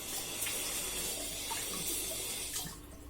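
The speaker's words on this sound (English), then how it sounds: "I'll pour some water in from here, from the tap." Tap water runs steadily into a wine-making bubble trap (airlock) being rinsed out, a continuous close rushing stream with no talk, easing slightly at the end.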